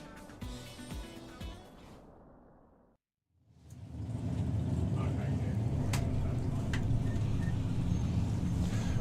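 Track prep vehicle called the Bluebird rolls out at a drag strip during qualifying at the Festival of Power 2024 to lay down extra traction compound. A steady, loud low engine rumble builds after a brief silence and holds to the end.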